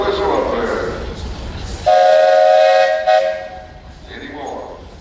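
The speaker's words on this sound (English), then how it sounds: "Hey, you got a whistle up there." A steam traction engine at a parade gives one loud, steady whistle blast of about a second, sounded amid outdoor crowd noise and talking before and after.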